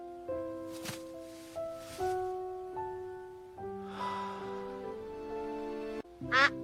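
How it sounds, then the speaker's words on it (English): Duck quacks come in a series of nasal, honking calls spaced irregularly over several seconds, fairly close and moderately loud, with a few breathy rustles between them. "Look, a duck!"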